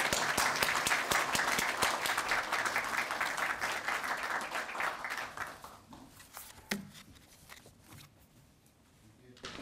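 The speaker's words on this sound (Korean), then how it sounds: "큰 박수로" Audience applause fills a hall at a university engineering faculty's retirement ceremony for professors, dense clapping loud at first and then thinning out to scattered claps, with faint speech beneath.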